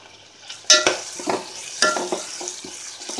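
Chopped onion frying in a pan for a Telugu thotakura pulusu (amaranth tamarind stew), with a steady sizzle broken by a few sharp scraping stirs, close by and with no talk.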